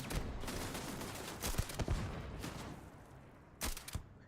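Gunfire in the space game Starfield comes as a few sharp shots and short bursts over a dense, noisy in-game background, fairly faint overall.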